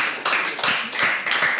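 An audience at a Nigerian school debate competition applauds a grammar school team, a close burst of dense hand clapping that swells and continues with uneven bursts.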